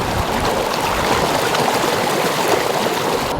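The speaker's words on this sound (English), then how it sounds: "now the current is even stronger" Warm thermal water in a pool at Pamukkale flows in a strong, steady current, a close, continuous rushing and gurgling wash with no talk.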